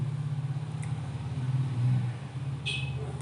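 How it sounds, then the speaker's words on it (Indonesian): A motorbike passes by outside, its engine a low droning rumble that swells briefly and then fades, heard alone without speech. "ada motor lewat"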